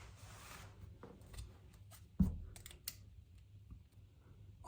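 A plastic pen tube being cut with scissors or a blade, giving a few quiet snips and one sharper crack, close up with no talking.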